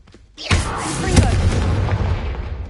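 The Confringo fire spell in Hogwarts Legacy bursts as a single loud, close blast, a booming explosive thud followed by a rumbling, crackling tail that fades over a couple of seconds.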